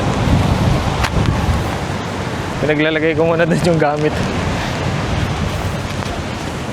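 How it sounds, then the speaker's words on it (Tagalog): Strong wind and surf roar at a seaside motocamp in Baler, Aurora, a continuous loud rush buffeting the microphone, while someone talks over it and a brief tonal whine rises midway. "Parang may bagyo. Di talaga kaya yung hangin. Umuulan pa."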